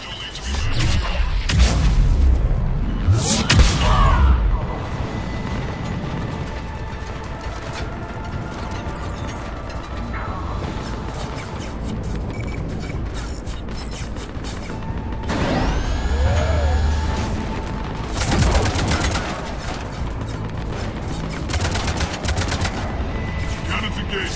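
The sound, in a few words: spaceship cannons firing in video game Mass Effect 3 Omega DLC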